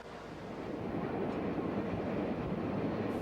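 A Union Pacific Challenger steam locomotive train gives off a dense, even rumble that stays at one level for a few seconds, with nothing else standing out.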